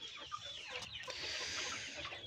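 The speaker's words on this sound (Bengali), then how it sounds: "তো মোটামুটি এই হচ্ছে আমার সোনালি মুরগির অবস্থা" Sonali chickens cluck steadily inside a poultry shed. A dense, close chorus of overlapping clucks and murmuring calls runs throughout, with no talking.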